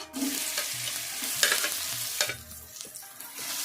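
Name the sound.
finely chopped onions frying in hot oil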